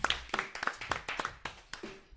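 Scattered clapping from a small crowd at a live show, a handful of sharp separate claps in an uneven rhythm, fairly quiet and thin, with some voices faintly in the background.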